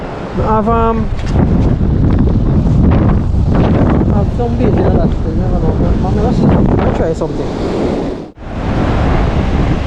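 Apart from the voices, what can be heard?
strong sea breeze and surf on a Jamaican beach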